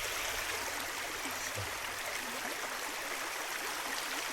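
Water rushes and burbles steadily over stones in a stream in France, a constant close babbling flow with no voices.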